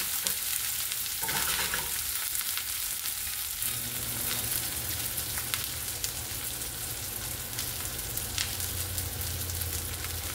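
Homemade brisket, beef belly meat, sautés in a pan with a steady loud sizzle and frying crackle that runs throughout, with some stirring and scraping noises and no talking.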